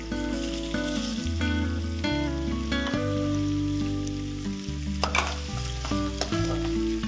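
Dried red chillies and shallots sizzle steadily in a hot pan of oil, a continuous crackling hiss partly masked by louder music playing over it, with no talking.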